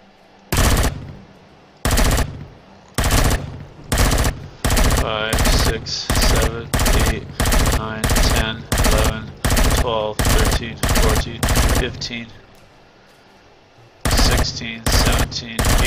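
Bursts of automatic gunfire in the space game Empyrion – Galactic Survival, loud rapid volleys repeating about once a second with brief gaps, then a pause before more shots resume near the end.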